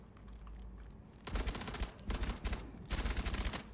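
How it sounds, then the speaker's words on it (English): Bursts of rapid automatic gunfire from a video game, in the SCP: Secure. Contain. Pasta. setting, come as loud stuttering volleys after a quieter opening, with short gaps between strings of shots. "Would you mind firing the gun, please?"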